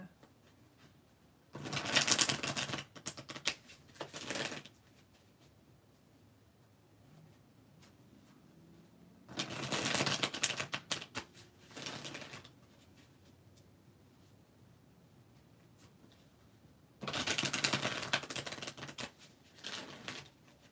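Three separate bursts of tarot card shuffling, each a few seconds long and close up, separated by quiet stretches with faint handling noise.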